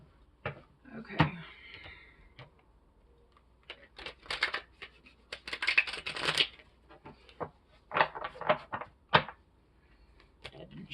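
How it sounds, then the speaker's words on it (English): Playing cards being shuffled by hand at close range, several separate riffling bursts with quiet gaps and small handling knocks in between. "That didn't shuffle well."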